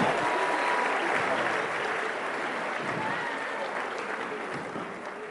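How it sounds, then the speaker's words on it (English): An audience at an entertainment industry leadership talk claps for comedians in the room, a thick, continuous round of applause that starts full and gradually tapers off over about five seconds. "Please give them a round of applause."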